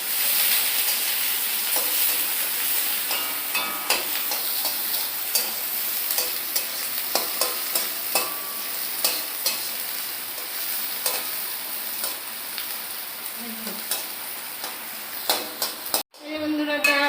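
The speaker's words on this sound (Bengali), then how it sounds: "পেঁয়াজটা ভাজা ভাজা হয়ে গেছে" Onions fry in a pan for dal: a constant bright sizzle with frequent stirring clicks and scrapes, close up, ending in a sudden clatter near the end.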